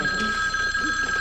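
A telephone rings with a loud, steady electronic bell tone that carries through the whole moment at close range, with faint murmuring underneath.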